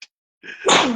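A single man's sneeze: a short sharp inhale, a brief pause, then an explosive burst close to the microphone.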